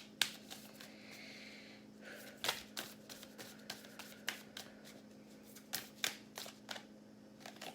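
Tarot cards being shuffled for a reading, with soft riffling and a series of sharp, close card snaps and taps at irregular intervals over a quiet room hum.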